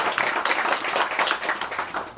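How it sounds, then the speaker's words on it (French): Audience members clap together at a social centre's general assembly in Arras, a lively, fairly close round of hand claps with a rhythmic pulse running throughout. "On peut les applaudir"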